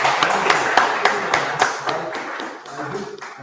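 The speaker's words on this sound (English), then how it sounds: "That's a round of applause." A short burst of applause, scattered claps blending into a steady patter that thins out toward the end.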